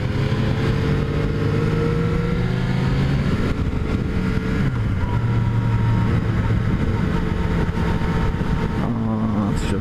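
A 2017 Yamaha FZ-09 motorcycle engine while riding, a loud continuous drone that rises and falls in pitch as it holds long gears, with one clear shift partway through, over wind rush.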